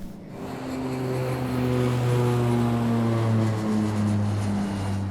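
Steady engine drone inside an airliner cabin as it descends toward Düsseldorf in stormy weather, a constant loud hum with sustained low tones that swell slightly midway and continue unbroken with no voices.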